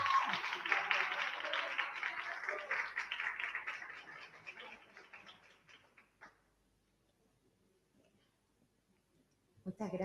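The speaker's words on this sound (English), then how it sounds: "Thank you to my students for cheering on." Audience applause at an academic conference panel at a university in Chile, a dense, steady patter of clapping that fades out over several seconds into near silence before a brief burst of noise at the end.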